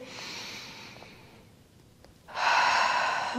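Deep breaths during a Pilates springboard workout: a long, airy exhale fades out, then a louder, rushing breath follows after a brief pause, heard close.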